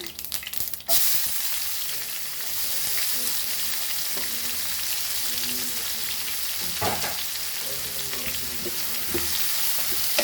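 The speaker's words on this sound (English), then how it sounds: "We'll add our onions now." Onions fry in a pan for a Goan banana flower bhaji. A bang opens the clip as they hit the hot oil, then a loud, steady sizzle continues with occasional stirring knocks and no voices.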